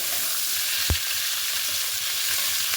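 Steady, loud sizzling of capsicum frying in hot oil in a wok, with one brief sharp burst near the start and no voices.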